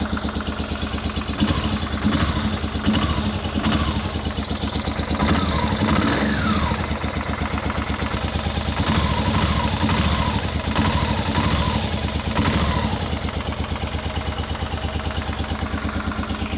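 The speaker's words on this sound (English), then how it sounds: "she seems like she's only running on one cylinder" Honda Africa Twin motorcycle engine running on only its rear cylinder, a rough uneven idle with clattering pulses and occasional light revs, close and steady throughout.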